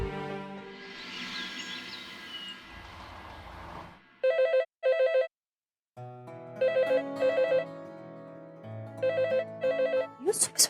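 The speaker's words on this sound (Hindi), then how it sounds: "लैंडलाइन पे फोन" A landline telephone rings in a home in repeated double bursts of bright electronic trills, following a noisy stretch at the start, with a short gap between ring groups.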